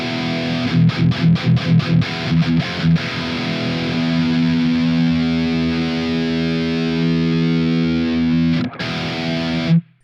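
Heavily distorted metal electric guitar run through BIAS FX amp-sim tones: a burst of tight palm-muted chugs, then a long ringing sustained chord that cuts off abruptly, loud and alone with no talking.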